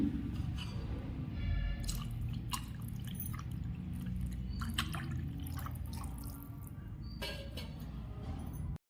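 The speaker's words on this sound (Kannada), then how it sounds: "ನಾನಿಲ್ಲಿ ಮಜ್ಜಿಗೆನ ಆ್ಯಡ್ ಮಾಡ್ಕೊತಿದ್ದೀನಿ" Buttermilk being poured into ragi ambali in a home kitchen, a soft continuous liquid pour with small drips and splashes close by, no talk.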